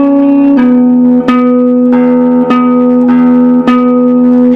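A riff on guitar, built on pull-offs, repeating plucked attacks in a steady pulse over a ringing low drone, close and clean with no talking.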